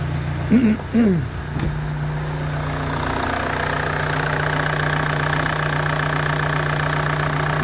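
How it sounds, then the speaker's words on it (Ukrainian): The 1.7 DTI diesel engine of an Opel Combo idles with a steady, even clatter and hum after a brief moment of talking, continuing close and unchanging. "Так працює двигунчик."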